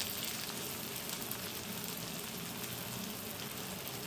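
Curry leaves, green chilli and chopped tomato fry in hot oil with a steady, even sizzle like light rain, continuous and fairly quiet, with nobody talking.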